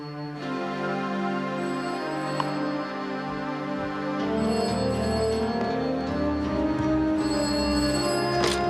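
A staff telephone rings steadily indoors, its bright tonal ring loud and sustained, with no one talking over it.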